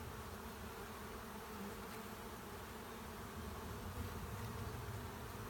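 Honey bees swarm around a crowded hive during brood box work in hot weather, a continuous faint buzzing hum with no voices.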